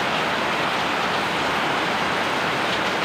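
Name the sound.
rain still falling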